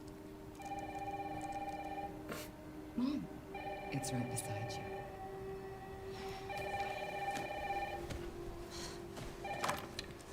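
A telephone rings in a video game, repeated electronic trill bursts in a steady pattern, fairly faint, with a young voice speaking briefly over it.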